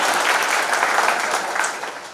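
A crowd at a political election rally bursts into dense, continuous applause, many hands clapping at once close by and loud throughout.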